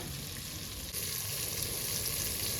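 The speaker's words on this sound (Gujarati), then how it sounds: "પહેલાં નાખીએ આપણે આખું જીરું" Whole cumin and spices sizzle in hot oil in a pan for an Indian mixed fish and eggplant vegetable dish, a constant, close, hissing fry with no speech.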